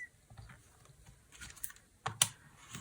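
A sharp craft knife trims the folded paper edges of a junk journal signature: a few light, close scraping cuts that build to a louder pair of crisp slices near the end.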